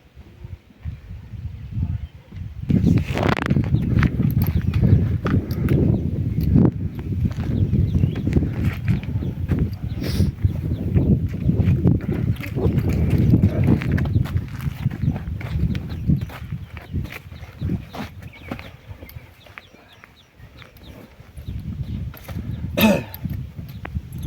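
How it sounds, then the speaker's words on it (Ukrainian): A mare's hooves thud and clop repeatedly on soft ground, steady and fairly close, with rustling and a cough now and then. "Дуже красива кобила."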